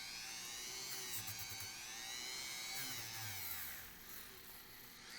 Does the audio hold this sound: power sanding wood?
yes